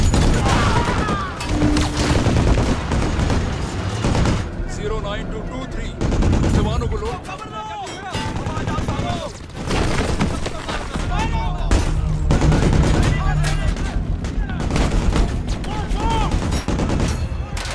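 Intense gunfire in a film battle scene as a rapid-response unit advances: dense, continuous bursts of automatic fire and scattered shots, loud and close, with shouting voices and crashes mixed through the chaos.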